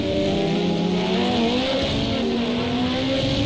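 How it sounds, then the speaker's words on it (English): A Porsche race car in Project CARS 2 at the Nürburgring howls past at high revs, its engine tones sliding steadily as the rear snaps into oversteer with a faint tire squeal, loud and continuous throughout. "there was a massive snap of oversteer there from whichever Porsche's just gone past us"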